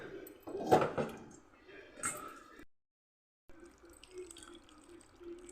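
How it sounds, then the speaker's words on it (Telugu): Tamarind being washed by hand in water for a vegetable curry, with splashing and dripping in two short bursts close by, then a pause and a quieter stretch of faint watery handling with soft background noise. "చింతపండు శుభ్రంగా కడిగా"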